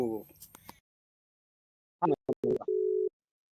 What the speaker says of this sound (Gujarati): ફોન થઈ ગયો છે હવે ઉપાડે જઈએ